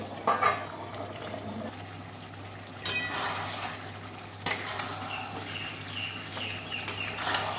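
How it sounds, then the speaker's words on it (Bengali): Potatoes sautéing in a wok for chicken curry on a small gas burner, a soft steady sizzle with occasional metal spatula scrapes and clinks against the pan, no voices. "কটা আলু দিয়ে দেবো কষে নেবো"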